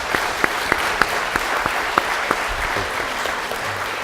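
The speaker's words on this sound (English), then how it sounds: "Please give them a round of applause." Seated attendees at a U.S.-China trade policy workshop at the Nixon Foundation applaud in a sustained, even wash of clapping, a few sharp individual claps popping out near the front.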